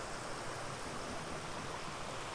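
A clear mountain stream just upstream of the Cascade des Anglais waterfall in Corsica, a constant close rush of water over stones with no voices.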